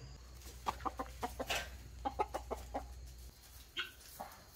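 Guinea fowl and chickens cluck in a run of short, sharp calls bunched in quick groups, moderately close on a poultry yard, with a low steady hum beneath and no talking.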